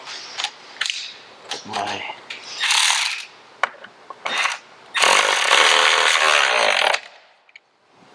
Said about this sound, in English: this 13mm bolt just goes back in here and tighten it in the beginning